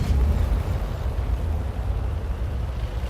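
Artillery shot from an M40/M43 self-propelled gun in a video game, a heavy low boom that rumbles on loudly and steadily through the whole stretch, with no talking.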